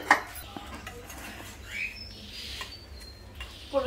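Dishes clatter and cutlery clinks as rice is served onto plates at home, light close knocks scattered over a few seconds with faint household noise.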